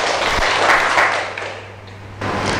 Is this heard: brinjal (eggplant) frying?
no